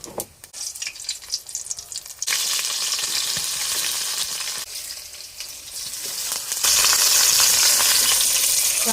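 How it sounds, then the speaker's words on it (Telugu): Tempering spices sizzle loudly in a frying pan, a steady broadband crackle that starts with a few scattered pops, then surges into continuous frying and grows louder and hissier near the end, close up with no talking. "దీన్నైతే తాలింపు వేసేసానండి"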